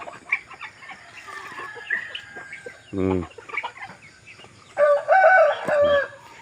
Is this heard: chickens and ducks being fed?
yes